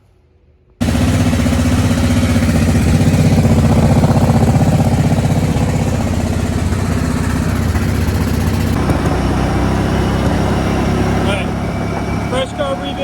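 Freshly carb-rebuilt Kawasaki Brute Force 750 ATV engine starting up and running steadily at idle, a loud, close, continuous rumble that holds without break, dropping slightly toward the end.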